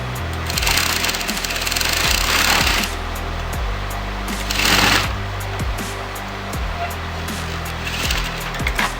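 Sewing machine stitching fabric for a boat neck blouse, heard in several short rattling bursts of rapid needle motion with quiet pauses between them.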